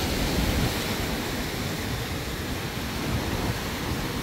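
Sea waves wash continuously along the Jeddah new corniche in the evening, a dense, steady roar of surf with some wind noise on the microphone and no voices.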